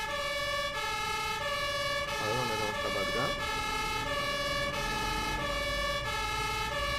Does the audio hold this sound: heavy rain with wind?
no